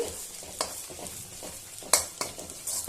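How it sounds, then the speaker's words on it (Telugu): Curry leaves and half a spoon of turmeric fry for an egg pickle in a pan, with a soft sizzle and a few quick spatula scrapes and knocks as the mixture is stirred up close. "కరివేపాకు కూడా ఇప్పుడే వేసుకుందాం వేగుతుంది బాగా బాగా కలపాలి"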